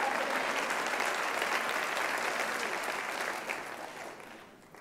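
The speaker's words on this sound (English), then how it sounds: "Can somebody give him a big hand clap of praise?" A church congregation claps together in sustained, dense applause that gradually fades out toward the end.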